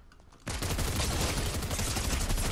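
SMG fire bursts out suddenly in a Fortnite fight, a dense, loud stream of rapid shots that runs on without pause after a quieter opening moment.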